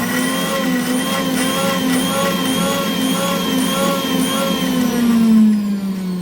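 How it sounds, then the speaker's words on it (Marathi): Kitchen mixer grinder grinding cumin, crushed peanuts and a little coriander, a loud continuous high motor whine with steady pitch throughout, no voices. "जिरे, शेंगदाण्याचं कूट, झाकण लावून मिक्सरला फिरवून बारीक करून घेते."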